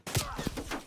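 A sniper rifle fires in a Call of Duty Cold War Search and Destroy match, producing a single loud, close report followed by a short rumbling tail.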